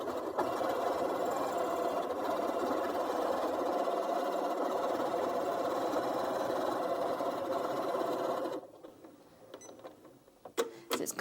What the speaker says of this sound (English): So if I go slow, the machine is sewing slow.